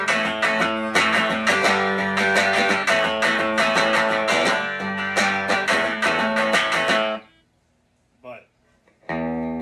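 Loud electric guitar through a tube amp on the high input, breaking up into dense distorted chords for about seven seconds, then cutting off with a brief faint strum near the end.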